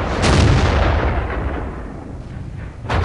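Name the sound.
tank gun firing in World of Tanks video game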